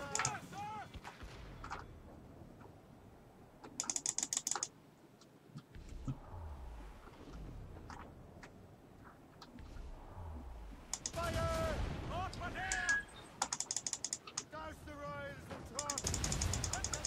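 Ship cannons fire in bursts during a naval battle in Assassin's Creed Rogue, with sharp volleys near the start and clustered booming salvos toward the end over in-game noise, while someone talks between the shots.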